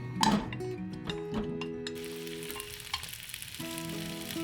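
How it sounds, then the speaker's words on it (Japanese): Asparagus and halved mini tomatoes stir-fry in olive oil in a frying pan over medium heat, a soft sizzle broken by a few clinks and scrapes of utensils, with a faint tonal hum underneath. "フライパンで表面に焼き色がつくまで中火で炒めます。"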